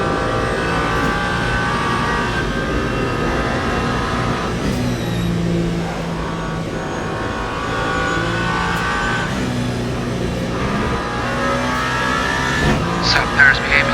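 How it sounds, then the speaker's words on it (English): Hypercar racing engine in Le Mans Ultimate, the lead car braking into Arnage: a steady mid-pitched engine drone with shifting revs and tyre noise, running continuously while a commentator talks over it. "This is the lead hypercar coming in through Arnage."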